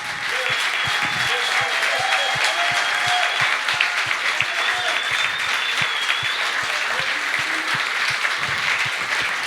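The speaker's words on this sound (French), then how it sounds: "On peut les applaudir très fort." Sustained applause from a church congregation fills the room at a steady, fairly loud level, with dense clapping continuing throughout and a few brief voices underneath.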